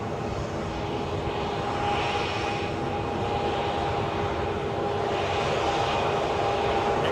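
A returning Brussels flight at Edinburgh airport, heard close up as a steady, loud jet engine roar that holds for several seconds with a faint whine on top, no voices.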